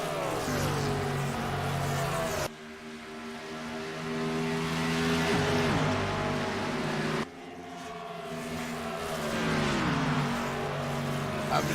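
Race cars roaring around a dirt track during a late-lap battle, engines droning and swelling as they pass in waves, loud and continuous with a crowd of cars going by.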